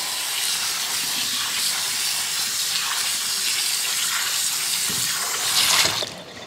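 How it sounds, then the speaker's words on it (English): Home-canned potatoes rinsed under a running kitchen tap, a loud, steady close-up rush of water that swells briefly near the end before the flow cuts off. "So I'm just going to rinse these."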